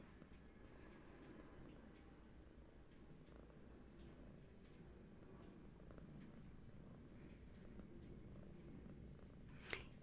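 Hattie the cat purrs steadily in a lap, a soft continuous rumbling loop held close and low for the whole stretch, with a brief faint click near the end.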